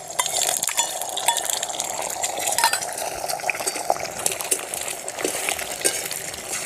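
Beaten egg poured into mustard oil in a hot kadai sizzles steadily, with light clinks of a utensil against the pan over the continuous frying hiss.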